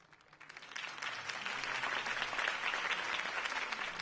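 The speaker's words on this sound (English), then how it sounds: "If only Mr. Wayne, my campaign's largest backer, could have heard that applause" A crowd applauding a campaign speech for Harvey Dent, dense sustained clapping that swells in after a quiet start and holds steady.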